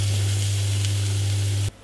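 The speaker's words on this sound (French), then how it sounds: "Faites griller pendant 5 minutes à la plancha en pensant à retourner les brochettes" Swordfish skewers grilling on a hot plancha give a steady, close sizzle over a low constant hum, which cuts off abruptly near the end.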